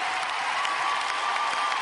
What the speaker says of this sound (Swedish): Bakom mig så ser ni det förra äkta paret, Bagge och Bagge, och de klappar händerna!